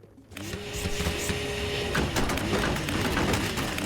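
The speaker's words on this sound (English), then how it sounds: "here we're gonna vacuum up some of the items again" A vacuum sucks up items in the video game Good Job!, starting abruptly and then holding a continuous, fairly loud mechanical whir with rattling clatter as objects are pulled in.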